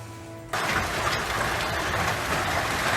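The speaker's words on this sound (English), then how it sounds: "White hailstones slam the ground like nature's artillery, each impact ringing with a chilling intensity." Hailstones pounding streets in northern New Mexico, a dense, loud, continuous roar of impacts that starts abruptly after a quiet half second and holds steady to the end.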